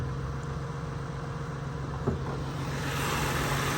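A 1996 Ford Taurus with its 24-valve Duratec engine idles steadily nearby, a smooth, even hum with no rumble and one brief knock partway through.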